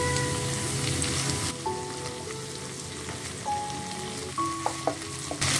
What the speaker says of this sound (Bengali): পেঁয়াজটি যখন হালকা একটু ভাজা হয়ে যাবে, অর্থাৎ ট্রান্সপারেন্ট হয়ে যাবে, তখন এর মধ্যে আমি কেটে রাখা ভেন্ডিগুলো দিয়ে দিচ্ছি।